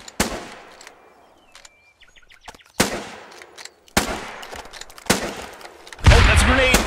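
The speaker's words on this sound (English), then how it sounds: "Oh, that's a machine gun." Machine gun fire in Running With Rifles comes in sharp, loud bursts separated by quieter gaps, ending in a heavier, dense blast of noise, with faint birdlike chirps between volleys.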